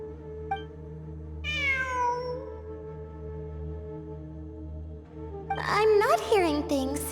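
A cat meows in the video game Genshin Impact, one drawn-out descending mew followed later by a louder burst of several quick meows over a steady low ambient hum.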